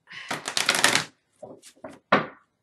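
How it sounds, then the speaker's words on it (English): Crisp, papery riffling of oracle cards being shuffled, one long burst followed by a few shorter flicks and a final snap, close up with no voices. "And we just give it another shuffle. I think we'll cut these cards."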